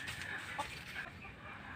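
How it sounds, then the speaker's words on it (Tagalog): Chickens cluck faintly in the distance over a steady outdoor background hum in rural Pangasinan, Philippines. "Ayan, mga manok,"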